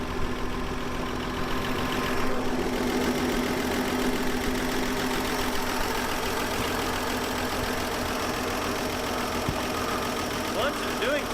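An abandoned 1954 Chevy Bel Air with a tree growing through its bumper idles with a steady, rough mid-range hum and a faint knocking rattle, running without pause throughout.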